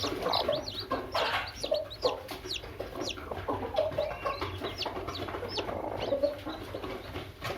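A hen brooding on eggs clucks repeatedly in short, soft bursts, fairly close, with other faint bird chatter in the background.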